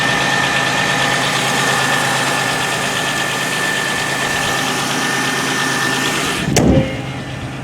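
A 1995 Chevrolet Monte Carlo with a 3100 V6 idles steadily in snowy weather after a cold start, a close, constant low engine drone with faint knocking, broken near the end by a single sharp thump.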